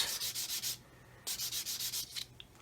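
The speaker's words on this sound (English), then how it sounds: "So again, I'm just going to sand this until I can" Rhythmic back-and-forth sanding strokes on the plastic panels of a 1/144 scale C-141B Starlifter model kit, a close, dry scratchy rasp in two bursts of quick passes separated by a brief pause.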